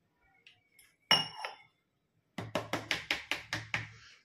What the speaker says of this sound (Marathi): तर चला, हे थोडंसं पाणी टाकून मिक्स करून घेते.